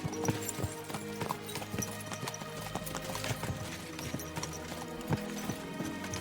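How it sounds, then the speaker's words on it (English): Hooves clip-clop in a rapid, uneven rhythm as horses are spurred on in Kingdom Come: Deliverance II, with thuds and jingling tack close up and a faint neigh amid the steady hoofbeats, no talking. "Let's really spur these horses on, eh?"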